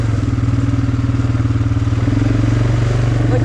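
Four-wheeler ATV on a light off-road ride in the rain, its engine a loud, steady low chug with a strong droning hum and a slight shift in pitch partway through, close to the microphone.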